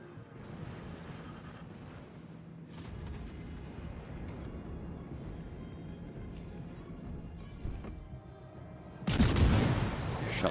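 Naval gunfire from the battleship Minnesota in World of Warships: Legends, heard as a dense rumbling bed of booms with a sharp, loud blast near the end.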